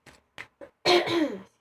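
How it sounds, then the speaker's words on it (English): A woman coughs and clears her throat indoors, a few short close coughs followed by a longer rasping throat clear, loud against a quiet background. "coughing or clearing my throat a lot"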